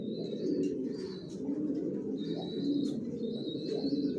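Young Johnson-line racing pigeons coo softly in a low, continuous murmur inside a loft, with thin, high squeaky cheeps repeating above it, all fairly faint.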